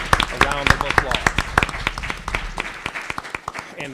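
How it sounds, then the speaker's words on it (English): Audience applause for honor roll scholars at a school board meeting, a scattered round of claps with distinct individual hand strikes, moderately loud and fading slightly over a few seconds. "Would you give those superintendent honor roll scholars a round of applause?"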